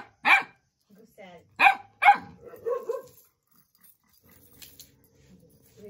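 Several dogs barking in sharp bursts at a family home in Uttarakhand, a few loud close barks early on, then quieter yips and growls with faint background sounds.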